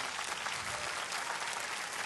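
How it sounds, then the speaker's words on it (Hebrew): An audience at a grand finals show claps in a steady, dense wash of applause throughout, without pauses or talk. "וזה הזמן לומר את זה באופן מכובד ועם הרבה מחיאות כפיים, יורם גאון!"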